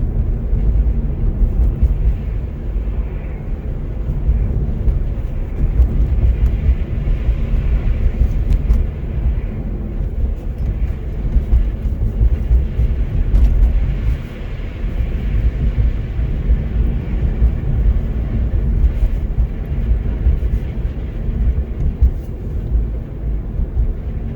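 A car cruises at 50 on a clear, barely icy winter road in Oshawa, a continuous low rumble of engine and tyre noise with steady road roar from inside the cabin.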